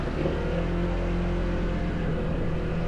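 A borrowed motorcycle engine runs close by with a steady, throbbing drone and a low, even hum throughout.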